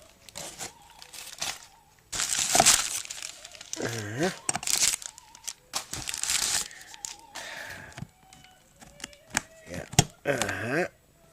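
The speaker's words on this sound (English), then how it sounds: "pieces of crunched packing or publicitary paper to pack it" Crumpled packing paper rustles and crinkles in loud, irregular bursts while a Sony 5-303E is unpacked, with handling thumps between the crackly stretches.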